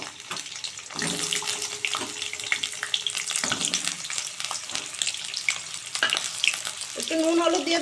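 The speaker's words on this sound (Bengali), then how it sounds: "মাংসের জন্য আগে আমি আলুগুলো ভেজে নেব" Washed, cut potatoes fry in hot oil in a wok, giving a steady sizzle with bursts of crackling and stirring clatter at moderate, close volume, with no voices.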